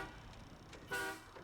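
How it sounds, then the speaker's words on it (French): A brief, faint truck horn toot in the video game SnowRunner, one short tonal honk over low engine rumble. "écoutez-moi ce petit klaxon"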